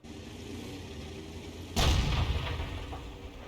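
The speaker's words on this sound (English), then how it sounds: "because that's the Panther 2, just shot into the rear of the LT432" A Panther 2 tank cannon fires once in a tank battle video game, a sudden loud boom breaking over steady background rumble and trailing off in a rolling decay.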